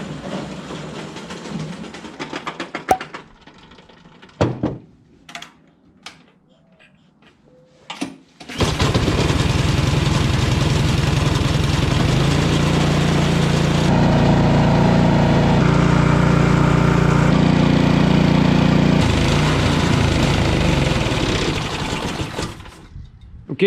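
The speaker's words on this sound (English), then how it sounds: "I just let it run. I sit it in the driveway for 15, 20 minutes until it completely runs itself out of gas." A snowblower engine left running in a driveway until it burns off its fuel, steady loud mechanical drone after a few scattered clunks and knocks at the start, holding a constant chugging note to the end.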